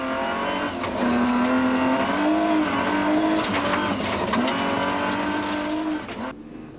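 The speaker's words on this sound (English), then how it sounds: "Rear-wheel drive rally cars are not the easiest pieces of machinery to maneuver around narrow gravel roads, and Kuhn was being made to work a little" Onboard a rear-wheel drive rally car on a narrow gravel road during the 1999 Rally of South Africa, a loud, high-revving engine climbs and drops through the gears, with gravel crunching underneath before it suddenly cuts near the end.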